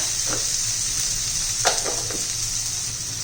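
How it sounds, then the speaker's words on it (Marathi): Homemade masala and turmeric sizzle in a frying pan while being stirred, a loud constant hiss with a few brief scraping strokes of the spoon close by, no speech. "हा माझा घरचा होममेड मसाला आणि हळद हे सर्व मसाले चांगले मिक्स करून घेऊया"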